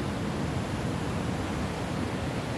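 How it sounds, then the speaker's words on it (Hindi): Big ocean waves roll in at Ladghar Beach in Dapoli on the Konkan coast, heard as a loud, steady, broadband roar of surf that fills the whole moment without a break and with no voices. "देख सकते हो आप लोग कितनी बड़ी बड़ी लहरें आ रही हैं।"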